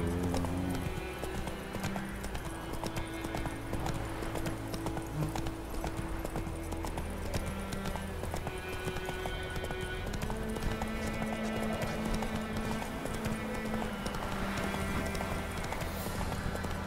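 Galloping horse hooves in a video game set in a medieval countryside, a steady rapid clip-clop running throughout under game music, close and continuous.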